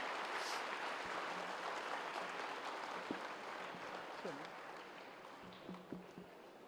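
A yoga class claps hands together in a steady, faint wash of applause, with a few brief voice fragments near the end.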